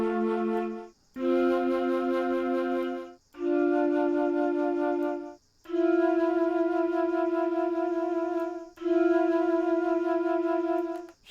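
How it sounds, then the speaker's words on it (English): Two flutes sustaining paired notes together, a series of five long held tones separated by short breaths, pure and steady with bright overtones, close and alone without speech. "Now let's hear these possible combinations with two flute players."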